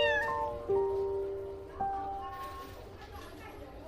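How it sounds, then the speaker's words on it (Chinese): An exotic shorthair cat meows several times in short, clear calls, close and fairly loud indoors, with voices present nearby. "你这只猫叫了。"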